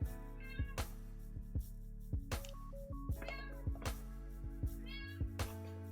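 A pet cat gives a few short meows at intervals, sounding faint beneath a repeating rhythmic electronic music beat.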